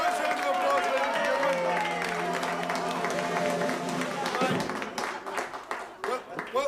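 A crowd claps in a steady burst of applause, with voices and chatter mixed in, thinning into scattered claps toward the end.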